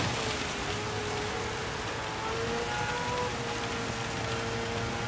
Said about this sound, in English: And the rain's heavy again.